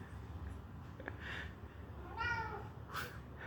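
A cat perched on top of a fridge gives two or three short, faint meows, one rising and wavering, over a quiet indoor room hum.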